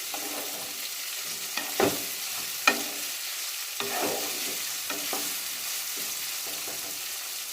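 A spoon stirs semolina upma with tomatoes in a pan, sizzling steadily with a few sharper scrapes and knocks against the metal, no talk over it.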